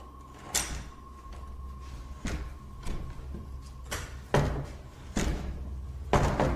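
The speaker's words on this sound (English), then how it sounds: "They push this door open, but are too scared to enter." A door pushed open in a dark, supposedly haunted building, with several soft knocks and thumps spaced across the moment over a low background hum and a steady faint tone.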